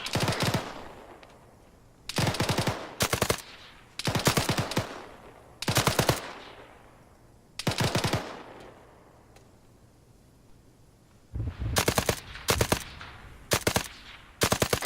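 Rapid automatic gunfire during a military video game operation: repeated sharp bursts of close, loud rifle fire in clusters across the span, with a quieter echoing tail between volleys and no talking.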